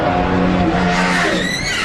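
A NASCAR race car at full throttle roars close and loud, its engine note sweeping upward with a brief tire-squeal edge as it passes.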